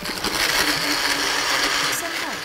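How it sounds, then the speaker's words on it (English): A kitchen blender pureeing salmon gives a loud, steady, high-pitched whir that runs unbroken from start to finish. "Put that back on the blender."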